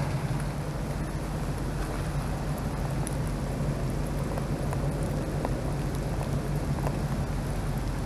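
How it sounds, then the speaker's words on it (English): Light rain falling steadily outdoors near gutter drain pipes and a ditch, a soft continuous hiss of drops with no talk, even in loudness throughout. "but the rain slowed down."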